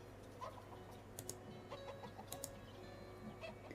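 Chickens cluck in a farming video game, soft and scattered over a steady low background hum, with a few brief clicks mixed in.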